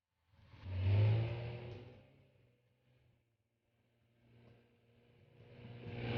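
A motorboat engine on a river trip in a remote Indonesian border area, rising to a loud roar, fading away, then swelling again as it passes.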